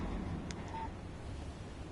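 A phone in Alan Wake chimes briefly with a short electronic text-message tone, quiet and isolated over a low steady background hum.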